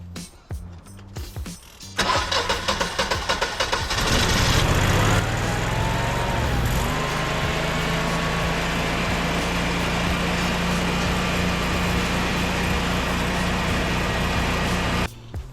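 Generac 14kW standby generator starting up for a test run, a rising whir and crank that settles into a steady, loud mechanical drone with a constant low hum, heard close up and with no talking.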